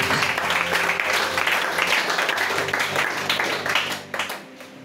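A church congregation at a worship service applauding, a dense, sustained wash of clapping from many people that fades near the end, with faint voices mixed in.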